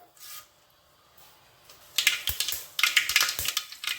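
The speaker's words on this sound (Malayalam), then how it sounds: "അതിലേക്ക് ഇനി ഒരു കാൽ ടീസ്പൂൺ അളവിൽ കടുകിട്ട് പൊട്ടിച്ചെടുക്കാം" Mustard seeds crackle and pop in hot coconut oil for a beef roast, with sharp irregular bursts that start after a quiet pause and come close and fairly loud, overlapping in quick clusters.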